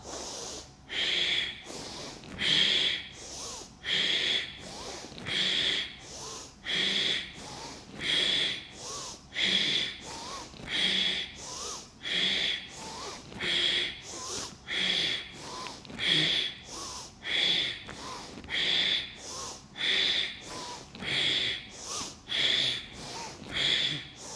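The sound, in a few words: rapid forceful breathing exercise, fast exhalations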